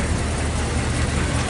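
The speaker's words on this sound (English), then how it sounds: "Man, this car sounds very, very nice." A 1975 Dodge Royal Monaco Brougham station wagon engine runs with a steady, close, dense rumble and no change in pace.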